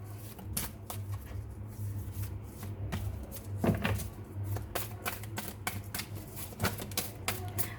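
Psychic tarot cards being shuffled and drawn, with a run of crisp, papery flicks and slaps in close succession over a steady low background hum, no talking.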